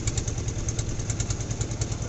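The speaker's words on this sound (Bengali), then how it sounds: "স্যালো নৌকাতে ট্রলার, ছোট ট্রলার" A small shallow-draft river trawler's engine chugs in a fast, steady low-pitched thump, loud and close on the boat.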